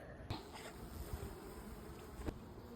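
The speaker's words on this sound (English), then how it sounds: "the bees still seem to be flying in and out" Honey bees buzzing around an active hive in steady, faint outdoor humming, with a couple of brief soft bumps and no voices.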